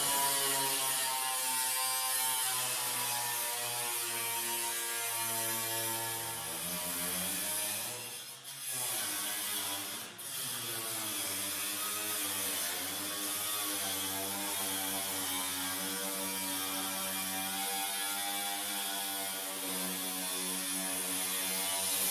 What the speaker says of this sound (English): I don't have nothing to cut it this long that would be easier than cutoff wheel